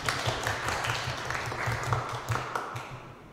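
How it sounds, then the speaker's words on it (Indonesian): Teachers and parents at a school positive-culture presentation give a short round of applause, a dense patter of hand claps with a low hum beneath, moderately loud throughout. "Tepuk tangan dong Bapak Ibu semuanya."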